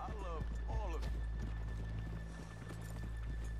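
Horse in Red Dead Redemption 2 snorting and whinnying up close, with hoof clops and footsteps scattered underneath, over a constant game ambience hum, a few bits of speech passing by.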